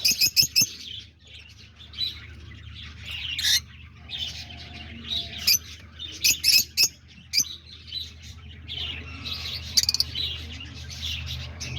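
Loud, busy chirping from several peach-faced lovebirds, with sharp high calls bursting in clusters over about twelve seconds, close by and with no talking.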